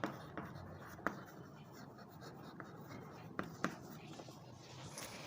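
A pen scratches on paper during a math lesson, soft faint strokes with a few sharper taps, heard quietly against a low room hiss.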